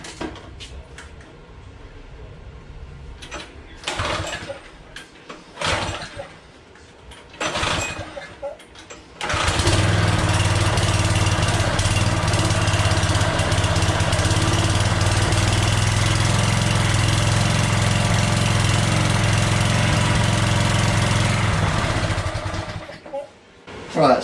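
A DR stump grinder's small engine sputters through a few short bursts, then catches and runs loud and steady for about fifteen seconds at a somewhat low, uneven speed before cutting out, with scattered handling noises early on.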